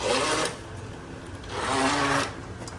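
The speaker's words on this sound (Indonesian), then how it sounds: "Oke, karena kita mau gilingnya agak kasar. Jadi kita giling pakai chop." A kitchen blender coarsely grinds ingredients on its chop setting, running in two loud motor bursts separated by a quieter lull, close by and with no voices over it.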